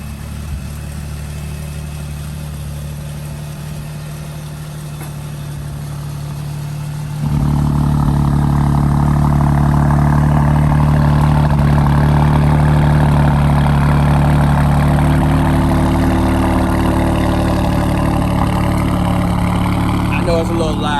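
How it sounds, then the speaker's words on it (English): A Nissan Titan pickup with an aftermarket quad exhaust and valve flap idles after a cold start. Its deep, steady rumble grows much louder partway through and then holds, while a voice talks over it. "Cold start. It's not going to be that loud based off the fact that it has the exhaust valve flap,"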